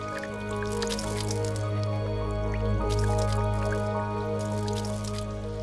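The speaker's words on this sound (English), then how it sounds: "Watch what happens when I pour water on them." Water poured onto the leaves of a taro plant, a steady soft trickle with light dripping and patter over a constant low background hum, close up and with no speech.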